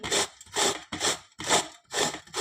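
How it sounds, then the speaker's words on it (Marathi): Raw green mango is rubbed against a hand grater in six even, rhythmic rasping strokes, close and crisp with brief pauses between them. "आता आपण ही कैरी या किसणीने किसून घेऊया अशा पद्धतीने आपल्याला कैरी किसून घ्यायची आहे"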